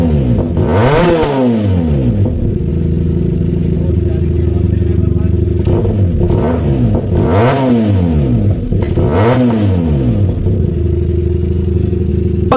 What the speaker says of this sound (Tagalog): kapag pinalitan nyo ng aftermarket na pipe ang motorcycle na ito, mayroon nga po siyang bulky sound na aakalain mong naka inline 4 engine siya